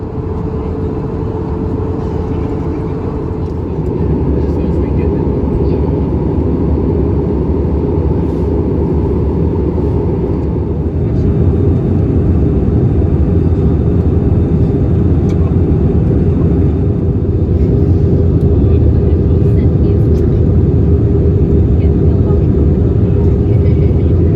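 Jetstar Airbus A320 airliner arriving and landing in Sydney, heard from inside the cabin: a loud, steady low engine and air roar that holds on and thickens slightly, with no clear talking.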